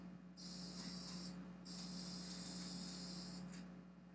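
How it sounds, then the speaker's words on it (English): A pressurized weed sprayer hisses in two bursts, a short one then a longer one, loud and close over a low steady hum, no voices. "just try and spray all of the weed"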